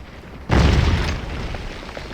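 Artillery firing canister shot in the Civil War battle game Scourge of War: Gettysburg, a single loud, deep boom that hits suddenly and rumbles away in a long tail.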